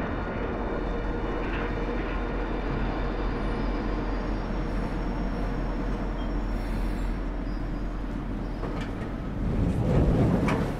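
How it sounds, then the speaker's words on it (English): A London Underground train pulls into Holborn Station, a steady loud rumble of wheels and motors filling the carriage, swelling slightly near the end as it slows, with no voices. "As the train approached Holborn Station"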